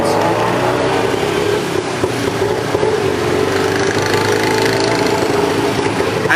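A tuk-tuk engine runs steadily throughout, a loud, continuous mid-pitched motor drone with a rough knocking texture and no speech over it, as on a ride in Cambodia.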